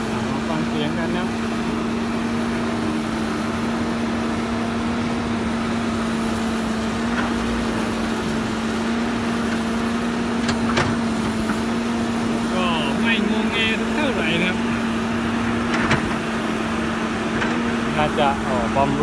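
Samsung SE210LC-2 excavator with its diesel engine idling steadily, a constant low drone and hum running throughout with faint clicks and rattles on top, no talking.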